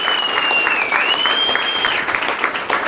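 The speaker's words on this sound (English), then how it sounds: "I hope people can give you another round of applause for just having the courage to come and speak your mind" Strong, continuous audience applause at a presidential campaign event, dense clapping close by, with a thin sustained tone running through its first two seconds.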